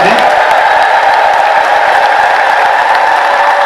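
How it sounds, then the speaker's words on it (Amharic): A church congregation ululates and cheers in one loud, continuous, sustained chorus of high trilling voices that fills the space without a break. "ኧረ እልል በሉላቸው"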